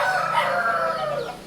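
A rooster crows once, close and clear, in a single drawn-out call that tails off at the end, with no other sounds around it.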